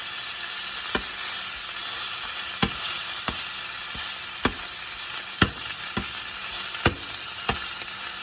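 A thick steak frying in a pan, a steady close sizzle with sharp pops and crackles spitting every second or so.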